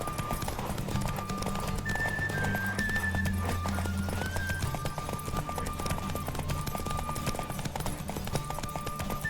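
Rapid, rhythmic hoofbeats of a galloping horse in the video game The Witcher 3 pound steadily throughout, with a thin whistling tone drifting above and a low rumble underneath.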